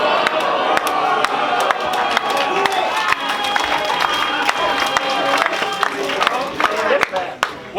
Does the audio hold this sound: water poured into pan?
no